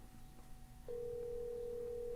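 A Vivo X Fold 2 phone rings during a test call, starting partway with a single steady electronic tone that holds at an even, moderate level, with no voices.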